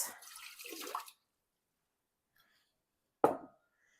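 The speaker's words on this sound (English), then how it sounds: "I'm going to pour that into my pot." Vinegar poured from a container into a cooking pot while making salsa verde, heard close: a short liquid pour lasting about a second, then silence and a single brief splash.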